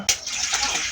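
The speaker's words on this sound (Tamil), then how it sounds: "தண்ணியை ஊற்றிக்கலாம்." A short burst of water pouring and splashing into a cooking pot, steady and close, lasting about a second.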